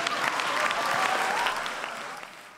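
A crowd claps at a comedy show in a dense, sustained burst that tapers slightly toward the end, with faint voices underneath.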